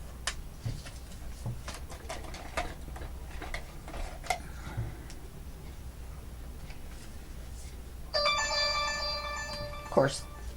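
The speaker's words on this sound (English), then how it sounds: "Of course, a phone." A phone rings in a room where ink and paper crafting is going on, a bright electronic trill that starts near the end and lasts about two seconds, rising over faint ticking and handling noises.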